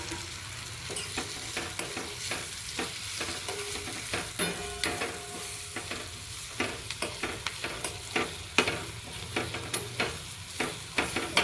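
Gram flour and spices frying in oil in a pan, with a soft continuous sizzle broken by repeated scraping stir strokes close up, and no talk.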